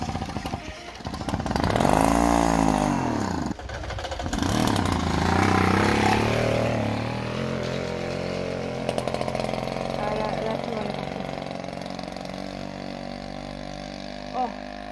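A small petrol engine with a carburetor needing adjustment is pulled to start, catches and revs loudly for a few seconds, then stalls and sputters into a rougher running drone, while people talk and exclaim nearby.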